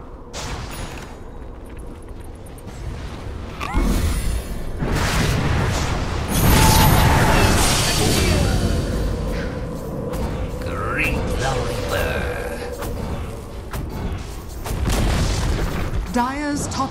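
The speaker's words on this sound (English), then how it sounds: "Dire's top tower has fallen." In Dota 2, a tower falls amid a run of heavy booms and crackling explosion effects, layered with other battle sounds while an announcer's voice speaks.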